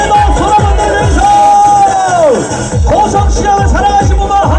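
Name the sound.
crowd applauding and cheering at market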